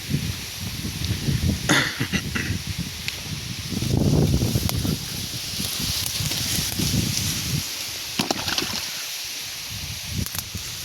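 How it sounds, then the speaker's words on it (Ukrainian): Gusty wind buffeting outdoors while fishing before rain, rising and falling in bursts with rustling and a few sharp knocks, loud and close. "Вітер зривається, зараз буде дощ"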